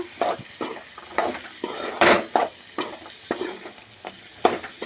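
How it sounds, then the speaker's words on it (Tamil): Boiled peanut pulses are stirred in a hot pan with a spoon, producing repeated close scraping strokes in an uneven rhythm over a light sizzle, with no talking. "இப்போ இந்த பயிர் வந்து இதோட கொட்டி கிளறி விடலாம். நல்லா கிளறிக்கலாம்ப்பா."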